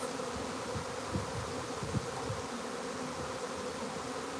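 A swarm of honey bees crawls into a box, their dense, steady buzzing and humming filling the air close by without pause.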